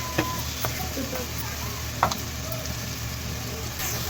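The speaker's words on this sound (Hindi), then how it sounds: "मसाला हमारा माशाल्लाह अच्छी तरह भुन चुका है।" Masala roasting in a pan gives a steady, even hiss of dry frying, with only a few faint taps and clicks from stirring scattered through it.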